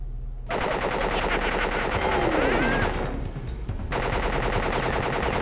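Rapid machine gun bursts from a video game rattle loudly and close, with a brief pause partway through before the fire resumes, and the shots are accompanied by sweeping synthetic effects.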